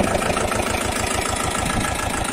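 Mahindra Jivo 245di 4WD tractor diesel engine idling close by, a loud, steady low chugging with an even pulsing rhythm and no talking.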